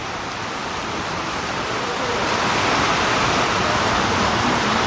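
Heavy rain pours steadily over Khadim Abad, Bari, Azad Kashmir at dusk, a dense, continuous hiss that grows slightly louder and stays unbroken throughout with no voices.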